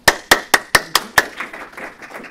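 Six crisp, evenly spaced hand claps ring out close and loud at an investor pitch event, then trail off into a softer scatter of clapping.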